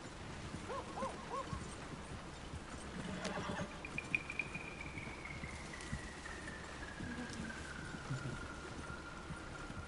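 A horse in a PS4 game whinnies clearly near the middle of the clip, with soft clip-clop hooves and quiet game ambience around it, and a faint voice now and then.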